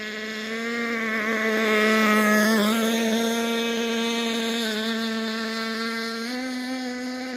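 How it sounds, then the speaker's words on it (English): Vintage nitro RC outboard boat engine running steadily at throttle, a loud continuous high-pitched whine with strong harmonics that rises and dips slightly as the throttle is worked, heard alone without talk. "Trying to give it more throttle."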